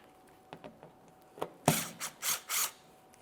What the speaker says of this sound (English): You're going to find that there's two 8mm headed mounting bolts. We can remove the pair.